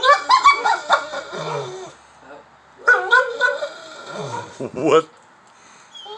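A pit bull–American Bully dog barks loudly in repeated bursts at a neighbor's dog, close by, with yips and a whimper between, while a person talks over and between the barks.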